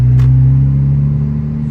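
2024 Honda Civic Type R FL5 with manual transmission pulling away gently in low gear, a loud, steady engine drone heard from inside the cabin, with no voices.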